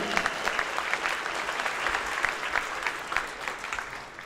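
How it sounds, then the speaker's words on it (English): Applause at a high school spring signing ceremony: a sustained wash of many hands clapping from an audience, steady and fairly loud throughout, with no talk over it. "Let's give them a round of applause."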